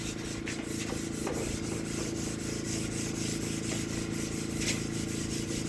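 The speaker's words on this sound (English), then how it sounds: "now you want to sand your panels. I got some 220 grit, and I also got some Scotch-Brite pads." Corrugated metal panels being hand-sanded with 220 grit sandpaper, a steady continuous scratchy rubbing that stays close and even throughout with no talking.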